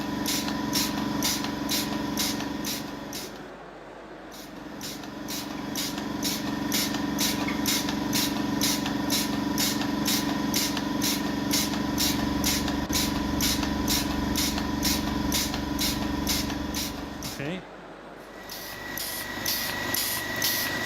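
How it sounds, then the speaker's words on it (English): Air pumps driving a soft robotic exoskeleton, a continuous mechanical hum with rapid regular pulsing and hiss, briefly cutting out twice before resuming. "So these actually are pumps and air. It's soft robotics"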